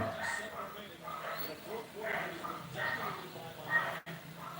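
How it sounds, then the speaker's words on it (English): Dogs bark and yip repeatedly at night in a residential area of Sosua, Dominican Republic, the barks coming in irregular bursts at a moderate distance, fairly faint, with a voice talking over them. "the dogs are going crazy"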